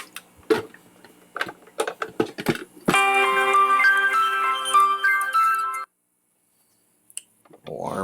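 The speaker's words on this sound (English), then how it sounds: "Alarms. Don't you just love them when they pop up at the wrong time?" An electronic alarm goes off while a new aquarium and filter are being set up: a bright, steady tonal beeping melody lasting about three seconds that cuts off abruptly, preceded by scattered handling knocks and clatter.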